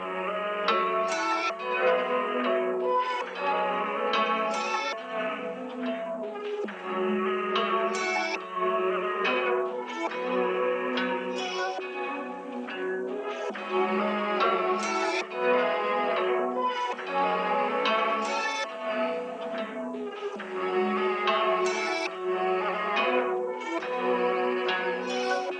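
Guitar sample played at halftime, a dense, echoing stream of plucked notes and chords running continuously at an even level, with no voices.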